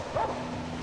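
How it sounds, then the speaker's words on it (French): A dog gives a short, faint yip or bark, barely lifting above steady background noise, with a brief whining tone before the sound fades out. "Monsieur Perrin, faut faire quelque chose pour ce chien."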